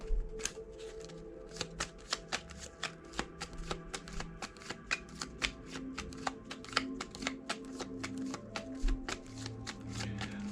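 Tarot cards shuffled by hand, a steady run of quick crisp flicks and riffles close to the listener, fairly quiet and continuing for about ten seconds with no talk.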